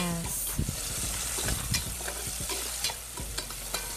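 Garlic and onion sauté in oil for ginisang monggo, a continuous close sizzle punctuated by repeated scraping strokes of a spatula stirring the pan.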